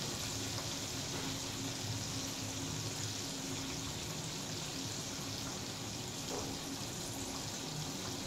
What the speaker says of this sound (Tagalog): i-fry natin siya hanggang mag-brown